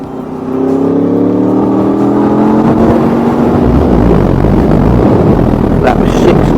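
A motorcycle running without its exhaust baffle accelerates hard in sixth gear with no downshift, its loud, rising engine tone climbing steadily under heavy wind roar throughout.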